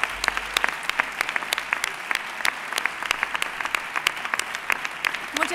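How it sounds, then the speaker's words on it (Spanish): Audience applause at the 2013 San Sebastián de los Reyes sports awards gala, steady dense clapping from a crowd with sharp individual claps standing out, continuing evenly throughout. "Fuerte aplauso para Mónica."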